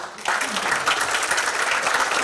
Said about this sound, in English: Just a big round of applause to everyone